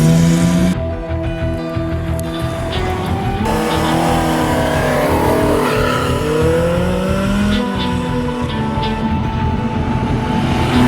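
A pre-war car drives on a busy road, its engine heard loud and close from on board as it revs and shifts through changing pitches, with road and traffic noise around it.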